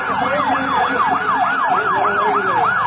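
An ambulance siren wails at a fire safety drill, a loud, close, repeating up-and-down tone cycling steadily with a vehicle engine beneath and no talking.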